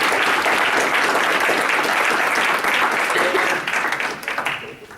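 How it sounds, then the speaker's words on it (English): Audience applause at a Lakewood city council meeting, honoring award winners: dense, steady clapping from a roomful of people, loud and continuous, thinning and fading over the final second or two. "Let's give all the winners a round of applause."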